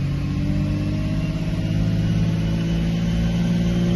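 A car engine at wide-open throttle in gear, heard up close as a loud, sustained droning roar with a steady, strong pitch and no voices.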